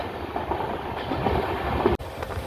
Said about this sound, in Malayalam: മൺറോ തുരുത്ത് സ്റ്റേഷനിൽ ട്രെയിൻ സ്കിപ്പ് ചെയ്യുകയാണ്